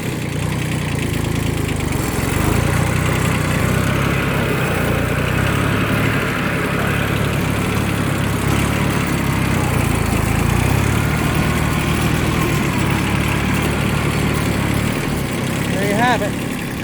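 Kubota B6200 compact tractor engine held near 1200 RPM by hand throttle with the PTO engaged, a continuous close diesel drone and mower hum that stays steady and loud for the whole stretch, with faint voices underneath.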